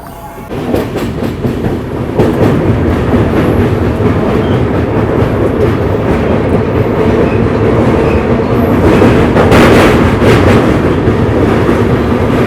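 Janmabhoomi Superfast Express, the Visakhapatnam to Lingampalli train, running at speed near Vijayawada, heard from on board as a loud, steady rumble with rhythmic wheel clatter on the rails throughout.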